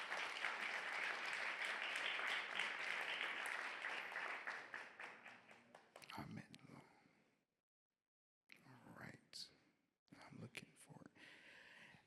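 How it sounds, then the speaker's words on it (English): Applause from a forum audience on African resistance movements, loud and steady for about five seconds before tapering off, followed by a short silence and then brief talking and room noise. "Please, round of applause for Nisrin."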